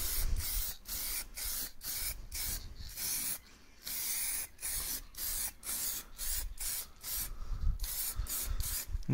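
A spray can paints a race motorcycle's fairings in a rhythmic series of short, close hissing bursts with brief pauses between them, and no talking.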